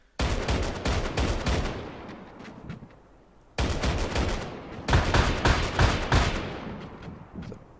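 A 25mm M242 vehicle cannon fires in a video game in two long, loud bursts of rapid heavy shots, each ending in a rumbling tail, with a short pause between them.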